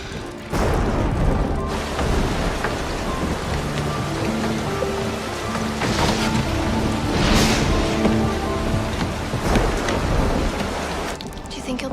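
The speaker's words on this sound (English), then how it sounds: "It's raining outside." Rain pours outside in a loud continuous wash, with rolling thunder rumbling through the storm; a voice speaks briefly under the downpour.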